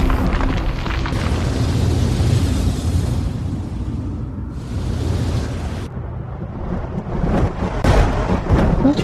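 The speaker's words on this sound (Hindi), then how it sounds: "तो फिर बादल का गरज रहे" Deep, rolling thunder rumbling from the clouds, loud and sustained with slow surges in strength, alone with no talking.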